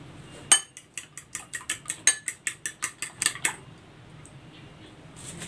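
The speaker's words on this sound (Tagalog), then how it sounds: "I-season ko muna itong flour with salt and pepper. Haluin ko muna." A utensil stirs salt-and-pepper-seasoned flour in a bowl, giving a quick rhythmic series of about a dozen light clinks against the bowl, fairly close and fading into quiet at the end, with no voices.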